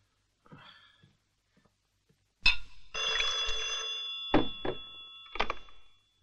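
An office telephone in a 1970s Italian gangster film rings loudly in a few distinct bursts, preceded by faint movement and ending with the receiver being picked up.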